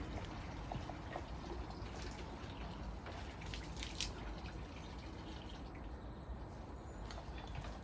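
Water trickles and drips from a tap on a work site early in the morning, a quiet, steady run with small splashes and drip accents, no talking.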